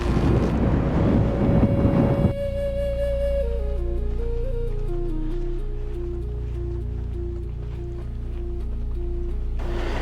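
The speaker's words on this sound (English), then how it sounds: "It's a windy day, and as the wind comes through these trees" Steady wind rushing through pine trees, a broad airy roar with a low rumble, continuous and fairly loud with no talking.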